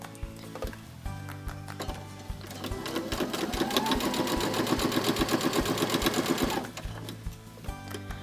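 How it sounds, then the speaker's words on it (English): A sewing machine stitches a quarter-inch seam across wallet fabric, ramping up into a fast, steady, rhythmic run of needle strokes for about three seconds before stopping, heard close over soft background music. "I'm actually going to sew across the top using a 1/4 inch seam allowance and leaving a 4-inch gap"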